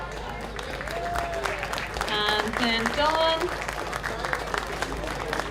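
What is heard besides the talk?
audience applause for fashion show models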